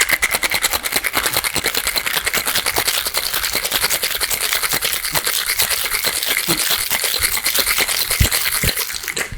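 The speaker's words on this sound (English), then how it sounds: "Give it a shake." A cocktail shaker is shaken hard, its ice rattling in a fast, steady rhythm that stays loud and close for the whole stretch. The drink inside is a margarita made with extra añejo tequila.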